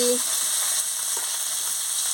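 Pieces of fried tarai fish, cooked until reddish, are lifted one at a time from sizzling oil. A steady hiss of frying fills the whole stretch at an even level, with a faint knock near the start and no voices.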